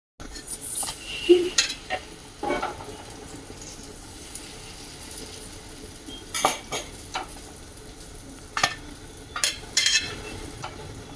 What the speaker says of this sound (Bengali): আর তাওয়াতে দিয়ে দিলাম এখন উল্টি পাল্টিয়ে এটা সেঁকে নেবো